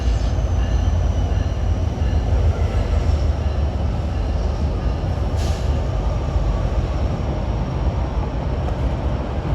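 Norfolk Southern freight train 25Z, running with engine issues, passes on a rail line in autumn with a steady, loud, broadband rumble and wheel roar that holds throughout.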